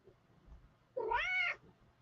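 A pet cat sitting on its owner's lap lets out a single loud, drawn-out yowl, rising then falling, close by in an otherwise quiet room.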